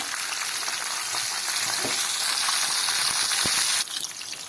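Hot oil sizzles loudly and steadily, with scattered sharp pops and crackles as mustard seeds burst alongside dried red chilli; the hiss eases slightly near the end.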